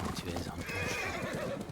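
A horse in the Ghost of Tsushima video game whinnies over clip-clopping hooves and game ambience, with a person talking over the sound.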